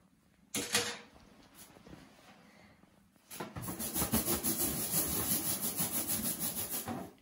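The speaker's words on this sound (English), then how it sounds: "The first thing you have to do is rub the balloon on your hair." A balloon rubbed on someone's hair for a static electricity experiment gives a soft scrape, then a louder, rhythmic rubbing with rapid repeated strokes, close and alone.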